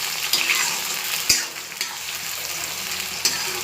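Onions sizzle loudly in hot oil for a jackfruit curry, a close steady hiss punctuated by a few sharp clacks and scrapes as they are stirred; nobody speaks.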